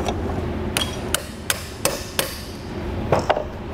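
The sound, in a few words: hammering a 5/32 inch punch through a jack gear pin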